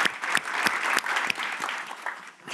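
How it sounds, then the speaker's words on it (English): An audience at a panel discussion on communication and technology gives a round of applause, a close, lively patter of many hands with a few louder individual claps, tapering off near the end. "I actually think that everybody needs a round of applause"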